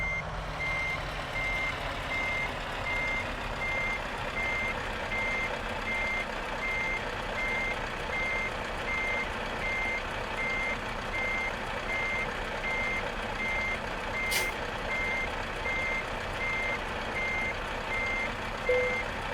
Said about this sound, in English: You don't like the beep beep beep, I take it.